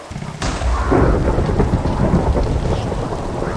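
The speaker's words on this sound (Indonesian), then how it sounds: "Ada petir." A loud crack of thunder in a video game breaks into a heavy, sustained rumble, with rain pouring steadily throughout.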